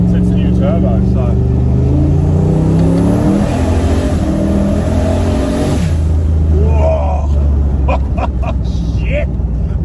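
Muscle car fitted with a new turbo accelerating hard on an airstrip, engine note climbing through rising gear sweeps, dropping at a shift, then pulling again, loud and close from inside the car with occupants talking and exclaiming over it.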